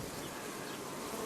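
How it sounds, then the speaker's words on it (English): Bees buzzing around a bag of sugar fondant, a soft, steady, slightly distant drone of several insects with no pauses. "you can see there are some bees there"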